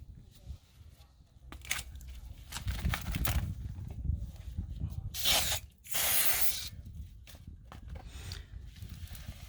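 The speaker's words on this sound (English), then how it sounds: "We have to go ahead and clean it with brake clean." Brake cleaner hisses from an aerosol can onto a brake rotor in several short bursts and one longer, louder spray, heard close amid light clanking.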